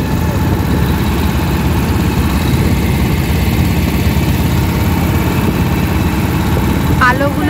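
A motor boat engine chugs steadily on the Ganges at Benaras at dusk, a continuous low drone filling the scene with water and crowd ambience, and voices can be heard around it.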